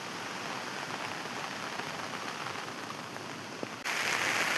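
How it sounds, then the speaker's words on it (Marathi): Heavy rain pours steadily outdoors on a farm during the monsoon, a dense, even hiss that swells louder near the end, with no voices. "खूप जोरात पाऊस आला आहे"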